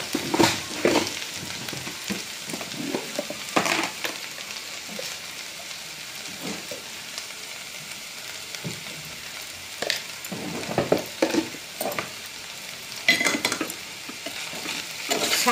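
A chikkudukaya (broad bean) masala curry fries in oil in a village kitchen, with a continuous sizzle and repeated scraping and clinking from a spoon against the pan. Irregular stirring bursts come and go over the sizzle, with no voices.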